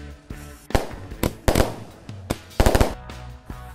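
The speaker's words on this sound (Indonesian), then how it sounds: "jadi ini dia mercon Basoka Romain Candle" Basoka Roman candle firework shooting off at night during a Takbiran celebration, a series of sharp loud bangs and pops, several in quick succession near the end.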